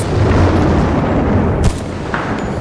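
A single heavy artillery shot in the video game Battlefield: Bad Company 2 booms loudly, followed by a rumbling tail fading out, with no voices.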